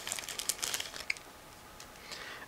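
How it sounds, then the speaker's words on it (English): Separate plastic bag holding clear sprues from an Eduard 1/72 Z-37A Cmelak model kit being opened, quiet close crinkling and a few sharp ticks at first, then fading to faint rustle. "So it comes in this separate plastic bag. Again, I need a second to open it."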